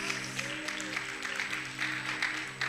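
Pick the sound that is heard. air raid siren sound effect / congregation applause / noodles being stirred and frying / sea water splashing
congregation applause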